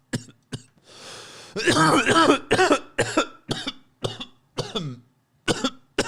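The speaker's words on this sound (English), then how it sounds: "you're making me cough" A person coughs in a series of harsh, close bursts after a short breathy pause, with throat clearing and several separate hacks spaced out in an irregular rhythm.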